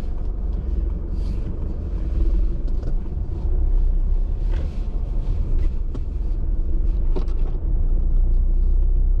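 A car approaching and rolling past on a village road, a steady low engine and tyre rumble with some wind buffeting, close and fairly loud throughout.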